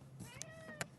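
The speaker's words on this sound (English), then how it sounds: "Oh, there's a cat." A cat in the video game Wuthering Waves gives a single short meow, soft and fairly quiet, with a couple of brief clicks around it and no talking.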